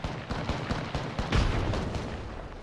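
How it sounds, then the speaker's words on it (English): A grenade goes off in Apex Legends amid a busy firefight, a heavy low boom rising out of rapid scattered gunshots and rumbling blasts, with constant loud combat noise throughout. "Another nade."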